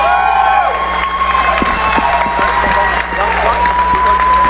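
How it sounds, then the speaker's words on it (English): Crowd at a boxing event in Texas applauds and cheers around the ring, a dense steady wash of clapping and shouting with voices mixed in throughout. "A round of applause in the ring."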